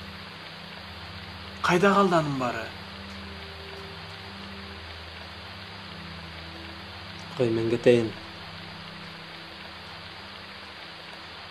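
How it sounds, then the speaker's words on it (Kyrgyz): Rain falls outside as a steady, even hiss across the whole scene, with two short bursts of conversation over it. "Эшикте жамгыр жаап жатат."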